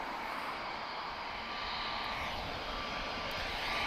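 Aer Lingus airliner taxiing at Lisbon Airport, a steady broadband jet engine roar that holds at a constant moderate level throughout, heard from some distance with no voices.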